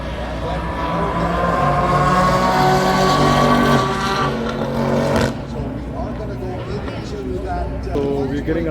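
Race cars run on a track near a tower and staging area, one loud engine howling past close by and fading, then a distant, rougher engine noise continues.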